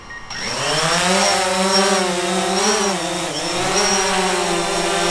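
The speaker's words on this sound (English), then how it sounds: "There's the engine start." A DJI Phantom 4 Pro drone's motors spin up from silence into a strong, steady whine. Its pitch rises, then wavers slightly as the drone holds close by.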